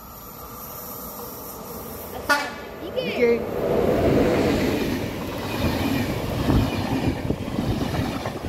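A train, likely the Krušnohor, rumbles past loudly after a sharp horn blast, the steady roar and clatter of wheels filling the scene while a voice speaks briefly.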